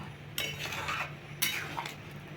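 A spoon scrapes and stirs through chicken curry in a pot, two clear scraping strokes with a metallic clink, close and alone.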